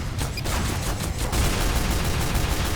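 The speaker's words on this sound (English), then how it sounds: "I'm using the pistol." Rapid volleys of pistol fire in Team Fortress 2, a dense stream of sharp, closely spaced shots running continuously and loudly throughout with no talking.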